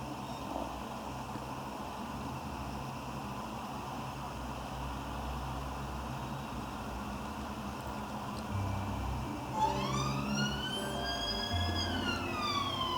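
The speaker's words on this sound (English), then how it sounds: "Excuse the emergency vehicle going by as I'm recording this" An emergency vehicle siren passes by outside, rising in from a distance with sweeping wails that grow louder near the end over a steady background hum.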